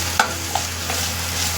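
Ingredients for a prawn chutney, including salt, sautéing in a pan with a soft continuous sizzle and a couple of brief stirring scrapes, close and quiet with no talking.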